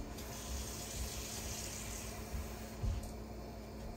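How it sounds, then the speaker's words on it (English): Water is poured into ground egusi seeds while making egusi soup, giving a steady, quiet running-water hiss with faint low bumps underneath and no talking. "So all you have to do is add a little water to the egwusi."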